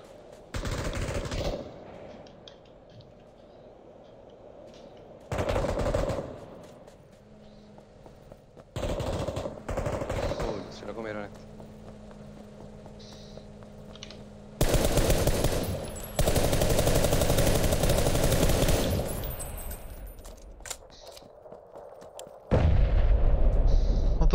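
Bursts of automatic gunfire and loud blasts in a PUBG squad match on the Miramar desert map, with dense volleys and heavy booms separated by quieter gaps.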